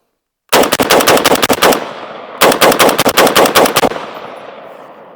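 An SG36 rifle on an outdoor range fires PMC Bronze .223 rounds fed from the bolt release: two loud, rapid strings of shots, each about a second and a half long, separated by a short pause, with echo trailing after each.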